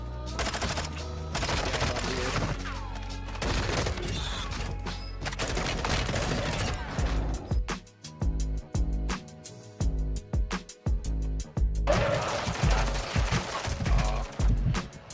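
Heavy gunfire in Call of Duty Black Ops 7 rattles in long, loud automatic bursts broken by short gaps and single sharp shots, with thumping impacts and a dense combat clamor throughout.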